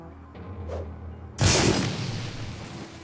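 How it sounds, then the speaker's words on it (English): An in-game phosphorus grenade from Shadowrun: Dragonfall goes off with a sudden loud burst partway through, then trails into a long, dense crackling rumble after a quiet lead-in. "Let's use the phosphorus grenade, actually."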